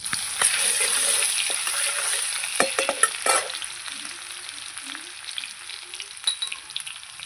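Garlic and spices sizzle in hot oil with a bright, close crackle, punctuated by a few clinks and scrapes of stirring midway before the frying settles to a softer hiss.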